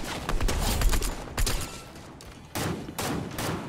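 Bursts of video game gunfire crack out in a busy firefight, with heavy volleys near the start, around 1.4 seconds and again from 2.5 seconds, layered and fairly loud with no voices.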